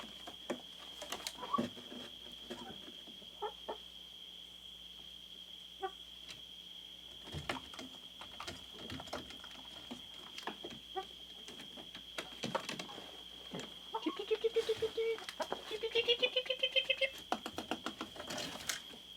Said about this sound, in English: Pigeons over there.